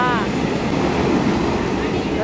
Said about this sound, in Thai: รถไฟผ่านไปแล้ว